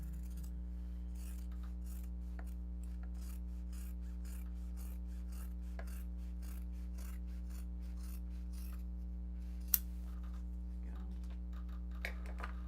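Scissors trimming Japanese fabric for a custom bag being sewn: a quick run of short, light snips and rasping cuts, close and quiet, over a steady low hum.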